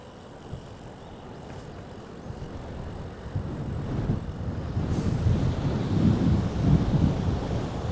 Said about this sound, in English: And there's wind when you go this way.